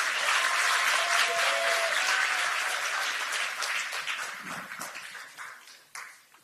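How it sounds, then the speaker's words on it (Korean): An audience claps and cheers at a Democratic Party Seoul campaign committee launch event, with dense sustained applause that gradually thins and fades toward the end. "큰 박수 부탁드립니다."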